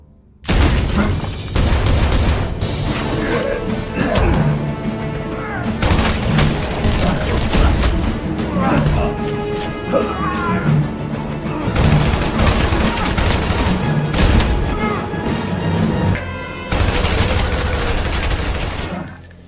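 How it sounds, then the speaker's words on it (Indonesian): Loud, dense bursts of shotgun and other gunfire in a film shootout against Russian mafia henchmen, with booming blasts layered over a continuous action soundtrack for nearly the whole stretch, briefly dipping twice. "diserang oleh para anak buahnya yang menggunakan shotgun"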